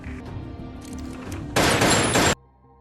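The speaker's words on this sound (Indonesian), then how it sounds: "Tiba-tiba terdengar suara tembakan." A sudden loud burst of film gunfire cuts through a low tense background, lasting under a second before dropping to a quiet hum.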